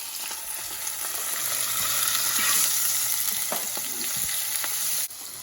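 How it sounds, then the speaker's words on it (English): Tomatoes, onions and peppers simmering in a pan give a steady, close sizzle and crackle that holds constant, with an occasional soft scrape or clink. "And you let that simmer."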